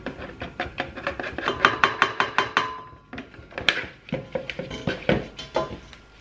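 A multifunction stand mixer, a CHEFREE M500, mixes 500 g of flour, giving steady rhythmic rubbing and scraping pulses, about two per second, close and moderately loud with no talk.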